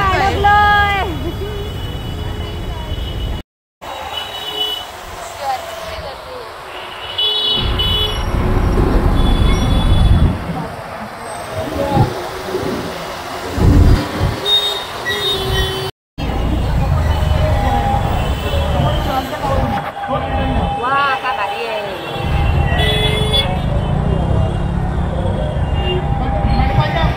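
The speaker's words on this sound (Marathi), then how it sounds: "आता मरणाचं ट्रॅफिक आहे आणि त्याला मी फिरतोय" Heavy road traffic during a Govinda festival outing, with engines droning, scattered horn toots and general street bustle heard close by, while people talk over it throughout.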